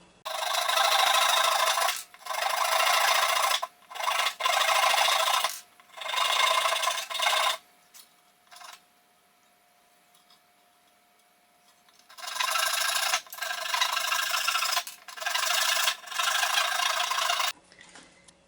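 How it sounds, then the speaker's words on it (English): Saw cutting off the pegs and bushing on an experimental violin's peg box: bursts of rasping strokes in two runs, close and fairly loud, separated by a quiet pause with faint ticking. "What I'm going to do now is cut off these pegs"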